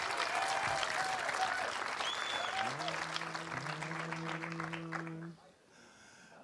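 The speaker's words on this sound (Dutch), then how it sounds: "jongens, even een applaus voor Kroegbaas en Friends" Audience applause for a pub band at a village festival in Hantumerútbuorren, a dense steady clapping that holds for about five seconds, joined by sustained musical tones partway through before the clapping cuts off and the sound drops away.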